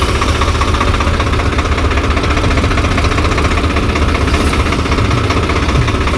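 A tractor engine runs steadily at a JCB earth-digging site, a loud continuous low rumble with a knocking vibration and no pauses throughout.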